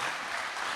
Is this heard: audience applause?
yes